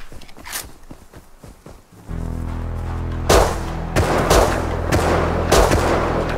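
Rapid gunfire during a raid in the survival game Rust, with several sharp shots and footsteps at first, then a loud steady droning hum under repeated bursts of shots.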